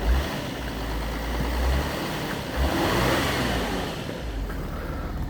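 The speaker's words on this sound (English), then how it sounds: "The power steering pump is very noisy though." A 2005 Audi A6 Avant 2.7 V6 TDI diesel idles with a steady low rumble, overlaid by a persistent whining, noisy hum from the power steering pump; no voices.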